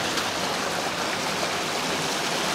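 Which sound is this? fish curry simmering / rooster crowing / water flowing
water flowing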